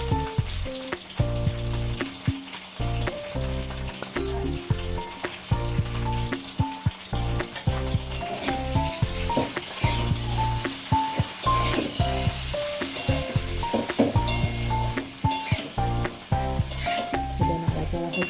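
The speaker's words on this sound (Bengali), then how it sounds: "এখন একটু নুন দেবো, হলুদ দেবো, দিয়ে নাড়াচাড়া করবো" Beans stirred in a pan with salt and turmeric, a steady soft sizzle and scraping running throughout, partly masked by louder background music with a prominent bass line.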